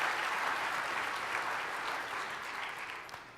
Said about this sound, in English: They're going to applaud anyway.